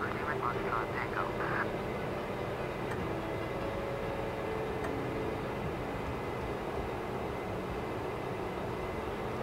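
A Majestic Dash 8 turboprop in Flight Simulator X hums at a steady, loud, constant drone as its engine runs up for takeoff, with a voice speaking over it.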